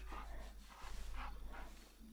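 A dog being petted in the video game The Hunter: Call of the Wild gives soft, faint whines and yips at a low level, with a steady hum underneath.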